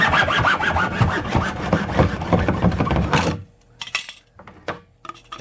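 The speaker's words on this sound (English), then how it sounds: "we just get a good hacksaw and we slice off this nipple" A hacksaw slices through a pipe nipple on a sump pump and catch basin drainage job, loud rapid back-and-forth strokes for about three seconds, followed by a few sparse knocks and clinks.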